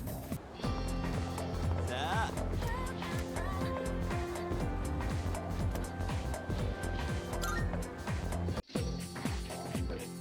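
Layered Persona 3 Reload remake music plays continuously with melodic synth lines and a steady beat, then cuts briefly before resuming.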